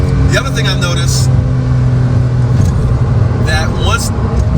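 Porsche 911 GTS T-Hybrid engine and exhaust droning steadily at close range, with a low rumble throughout and the revs building as the exhaust opens, while a voice talks intermittently over it.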